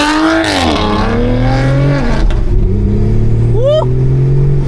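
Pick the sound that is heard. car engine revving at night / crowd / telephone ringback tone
car engine revving at night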